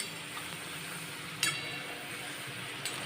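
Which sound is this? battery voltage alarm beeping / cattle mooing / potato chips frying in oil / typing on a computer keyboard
potato chips frying in oil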